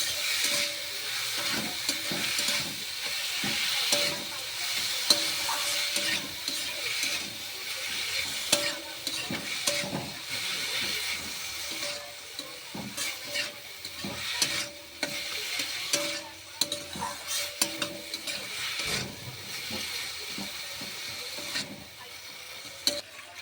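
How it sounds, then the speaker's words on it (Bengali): Potatoes stir-frying in a pan give a steady bright sizzle for the whole stretch, with frequent scraping and stirring clatter from a utensil rising over it. "আলুটা দিয়ে দিলাম। নাড়াচাড়া করে নেবো।"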